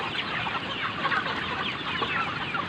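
Native chickens about two months old cluck steadily and densely at feeding time, a continuous flock chatter close by with no talking.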